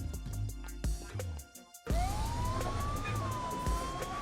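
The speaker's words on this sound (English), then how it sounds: "the sirens were closer now, not distant anymore" Police siren wailing in a steady rising and falling tone on a street, loud and near after a brief drop in sound, with traffic noise beneath it.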